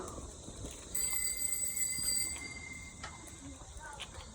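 A bicycle bell rings once with a bright, sustained metallic tone lasting over a second, then fades into outdoor rolling noise.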